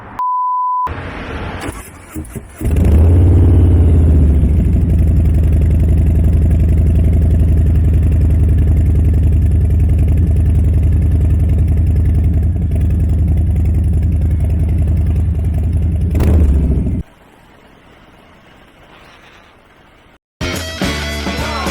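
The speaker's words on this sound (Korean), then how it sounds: "한번 머플러 배기음을 들어보도록 하겠습니다. 아무래도 할리 데이비스는 머플러 배기음이 좋아야 될 것 같습니다." A customized 2018 Harley-Davidson Street Bob (FXBB) with an aftermarket muffler exhaust starts up and idles loudly for about fifteen seconds, a deep, steady, throbbing rumble close by, before shutting off into quiet.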